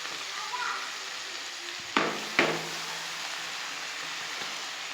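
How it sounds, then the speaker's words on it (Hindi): Chicken liver frying in a pan as coriander is stirred in, a steady close sizzle throughout, with two sharp spoon clacks against the pan near the middle. "धनिया को करेंगे मिक्स"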